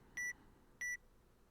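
Two short, identical electronic beeps from a Roblox ELS emergency siren setup, clean and evenly spaced about half a second apart over near silence.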